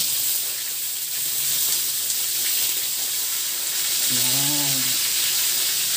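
Rice fries in a pan with a steady loud hiss and sizzle throughout, while a voice speaks briefly partway through.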